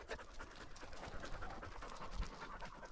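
Hounds pant rapidly and continuously at close range, a quiet breathy rhythm with no speech.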